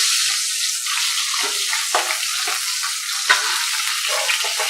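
Pointed gourd pieces frying in hot oil for Bengali shukto, a steady loud sizzle with occasional soft stirring scrapes close by, no talk.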